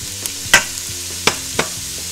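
Bite-sized chicken and other Japanese chicken curry ingredients hitting hot avocado oil, a steady close sizzle broken by a few sharp clacks and thumps from the pan and utensil.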